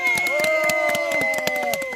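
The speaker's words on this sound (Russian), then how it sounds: "Поддержим аплодисментами первого моржа." Onlookers at an outdoor winter ice-hole swimming gathering clap in a rhythmic beat for the first swimmer. Cheering and raised voices carry over the steady clapping.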